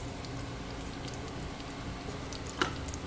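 Mustard seeds sizzling in a little hot oil in a pan: a soft, steady crackle like light rain, close and fairly quiet, with one brief sharper pop near the end.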